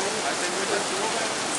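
Steady rain falls at an outdoor cultural fair in Guajará, a dense, even hiss of drops with no breaks, close and fairly loud, with no talk in this moment.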